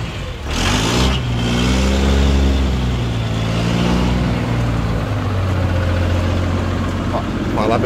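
A vehicle engine idles steadily while warming up, a freshly rebuilt motor not yet run in, outdoors at a beach; the low droning hum stays even and close, with a brief rev near the start.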